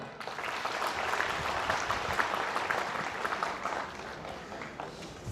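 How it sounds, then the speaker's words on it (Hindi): Sustained audience applause at a political rally in Meerut, dense and steady throughout with no gaps, loud and close-filling the space. "एक बार उन सब के लिए आप जो सबकी तरफ से बहुत जोरदार तालियां"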